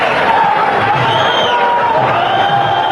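A cricket crowd in an ODI match cheering a half century, a loud, sustained roar of many voices with whoops and shouts rising and falling, dense and continuous throughout.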